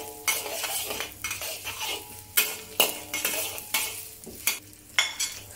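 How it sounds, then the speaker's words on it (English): Coarsely chopped garlic and ginger sautéing in oil in a wok over medium heat, a steady sizzle broken by repeated sharp scrapes and clinks of a metal spatula in an uneven rhythm. "Then sauté the coarsely chopped garlic and ginger until aromatic."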